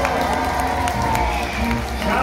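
A large arena crowd at a medieval dinner show with horses cheers and claps continuously, a dense, steady roar of applause and shouting that fills the whole stretch.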